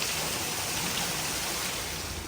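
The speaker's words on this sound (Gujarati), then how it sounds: "વરસાદે મજા મૂકીને જો મસ્ત મજાનો પડી રહ્યો છે" Heavy monsoon rain pours down over a road with water running along it. A dense, even roar of falling water holds steady throughout, with no breaks.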